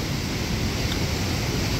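A normally dry creek, flooded into a river near the Hite Bridge, rushes past in a steady broad roar of churning water with some wind buffeting, constant and fairly loud, with no one speaking.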